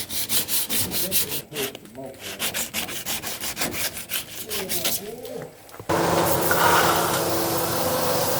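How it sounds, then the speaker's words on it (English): 180-grit sandpaper hand-sands a truck body: rapid rhythmic back-and-forth rasping strokes, close and loud, then a shift to a steady continuous hiss of broadband noise. "And areas like this all have to be hand sanded with 180 grit sandpaper, which I'm going to start doing now."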